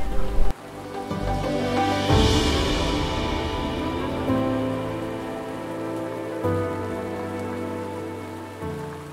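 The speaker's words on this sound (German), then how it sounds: "Auch das Fahren im Regen ist auf Sardinien ein bisschen anders." Rain falls steadily during a motorcycle ride on Sardinia, a constant spattering hiss that runs the whole way under a lower, steady tonal hum.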